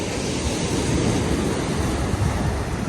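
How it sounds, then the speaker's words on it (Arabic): Sea waves roll and break in a steady, loud roar with no pauses, blended with gusty wind buffeting the microphone throughout. "تخيل هي الموجة خوتي كتخلع."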